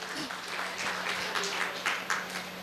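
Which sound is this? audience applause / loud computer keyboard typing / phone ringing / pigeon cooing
audience applause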